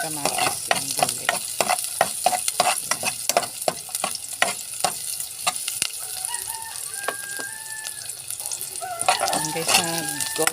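Garlic and onion sautéing in a pan for monggo with alugbati, a busy crackling sizzle with repeated stirring and scraping clatters, a rooster crowing faintly in the background near the end.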